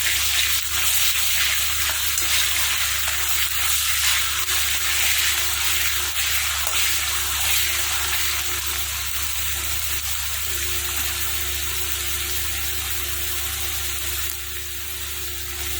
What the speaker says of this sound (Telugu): దానికి కొంచెం పచ్చివాసన పోయించే వరకు ఫ్రై చేయాలి